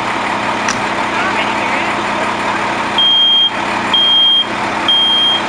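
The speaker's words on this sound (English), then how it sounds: "Does everybody know what this is? Smoke alarm, right?" At a volunteer fire department demonstration, a smoke alarm gives three short, high electronic beeps about a second apart near the end, over a busy background of engine noise and murmuring people.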